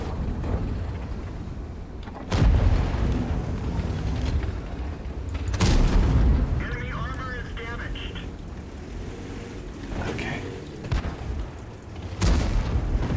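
Enemy SU tank destroyer's gun firing in World of Tanks, heard as several heavy booming shots at intervals over a steady engine rumble, with a player talking between the blasts.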